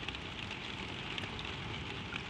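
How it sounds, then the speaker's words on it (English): Soft, steady rain patters on the roof of a tram at night, a dense even hiss with faint scattered drops, close and continuous with no voices. "The rain is soft on the roof."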